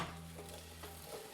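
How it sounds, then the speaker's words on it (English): Tomatillos and peppers stirred in a hot pan for salsa, a soft steady sizzle with low scraping movement, faint and continuous over a short moment. "add the tomatillos and the peppers. Move it around, stir it to obtain an even cooking"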